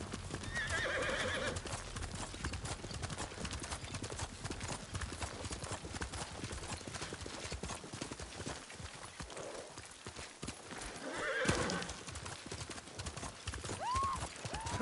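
Galloping horse hooves in the samurai action game Ghost of Tsushima, a steady drumming of clip-clop under a continuous game soundscape, with whinnies rising near the start and again toward the end.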